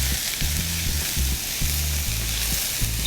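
Garlic and mushrooms sizzle steadily in a frying pan, a bright continuous crackle with low clunks of stirring underneath and no talking.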